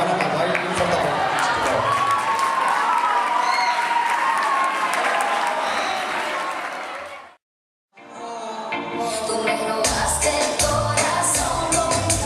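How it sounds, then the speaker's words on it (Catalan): Audience applause at a secondary school's end-of-year show, a thick, sustained burst of clapping and crowd noise that cuts out briefly, then resumes mixed with the start of dance music. "Endavant amb el ball i un fort aplaudiment."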